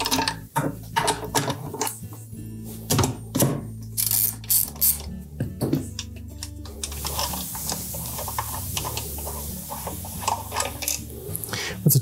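A ratchet clicks in rapid bursts as it backs out two bolts holding the motor of a Whirlpool washer, up close, with brief pauses and metallic handling sounds in between.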